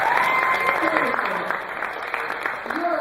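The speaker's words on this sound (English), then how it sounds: "Could we just please give a round of applause for Charles?" An audience at a benefit show keeps up a steady round of applause, moderately loud and continuous, with a voice talking faintly over it.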